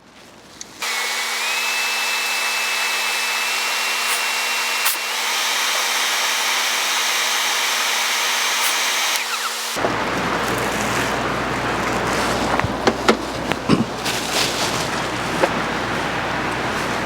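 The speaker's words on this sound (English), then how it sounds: "what I can do is I can blast it with a little bit of air" A blower blasts air onto burning charcoal in a Cuisinart 18-inch vertical charcoal smoker, a loud, steady whine that switches on, runs for about nine seconds and cuts off, leaving a rougher roaring rush with scattered clicks and crackles.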